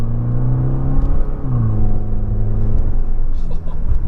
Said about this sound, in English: But let's give it a little bit of gas.